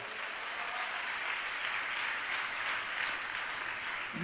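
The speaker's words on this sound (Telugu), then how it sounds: "కొట్టు చప్పట్లు ఒకసారి" Church congregation clapping together, a steady dense wash of applause at moderate distance holding evenly throughout with no voices over it.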